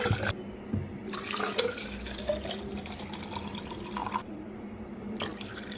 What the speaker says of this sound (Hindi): देन अब इनकी वाटर बॉटल्स में जो है ना मैं पानी दे देती हूँ